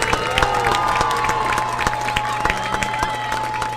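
Stadium crowd at a high school football game applauds and cheers for the senior varsity cheerleaders: steady dense clapping with scattered whoops and shouts, continuous and fairly loud throughout.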